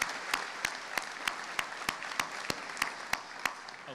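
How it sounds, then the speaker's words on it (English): Audience at a community foundation scholarship night clapping for an endowment, a thin scattering of handclaps with a few sharp, evenly spaced claps standing out, moderately close and without speech. "One more round of applause for the John and Vivian Hoover Endowment."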